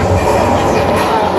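Inside a subway car on a studio tour set dressed as a Washington Metro station, a loud steady rumble and rattle fills the space with no pauses.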